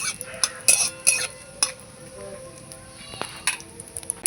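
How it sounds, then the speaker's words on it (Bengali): Cumin seeds, dried chilli and a bay leaf tempering in hot oil in a pan, giving a soft sizzle broken by sharp clinks and scrapes of a utensil against the metal pan. "এই যে জিরে, এই যে শুকনো লঙ্কা, এই যে একটা তেজপাতা দিয়ে ভালো করে আমি ফোড়ন করে নেব।"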